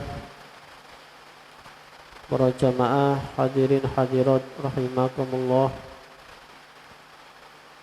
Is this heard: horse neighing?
no